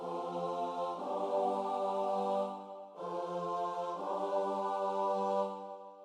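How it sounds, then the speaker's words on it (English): Sustained four-part choir chords moving in contrary motion from subdominant to dominant, two held phrases each shifting to a new harmony, smooth and blended with a short breath between. "In the 4-part choir, moving in contrary motion from subdominant to dominant"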